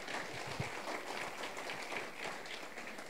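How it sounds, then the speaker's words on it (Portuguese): A church congregation applauds during a Portuguese-language service, a steady continuous wash of many hands clapping that sounds distant and fairly faint, with no voices over it. "Você pode dar um aplauso a Jesus?"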